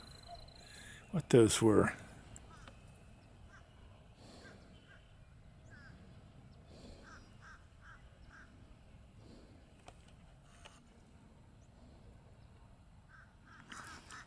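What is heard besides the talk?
crows cawing in swamp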